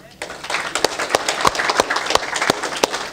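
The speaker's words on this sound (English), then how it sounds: "Let's first of all give a big round of applause" An audience at a small business meetup applauds, a dense close patter of many hands clapping with a few sharp louder claps standing out, sustained for a few seconds.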